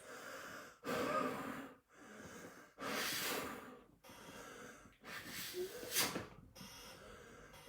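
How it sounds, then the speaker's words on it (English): Breathing noise from exhaling through the hose of an AP Inspiration closed-circuit rebreather, several long breath-like hissing bursts separated by short pauses, close and fairly loud. "I'm going to exhale into it"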